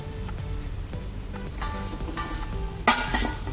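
Veg puffs, also called veg patties, deep-fry in oil with a steady bubbling sizzle, then a sharp metallic clink near the end as a utensil strikes the pan.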